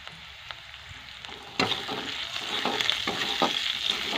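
Chopped onions browned in a pan, with turmeric added, sizzle steadily while a spoon stirs through them, giving a few sharp scraping clicks over the continuous hiss. The sound jumps louder midway and stays close.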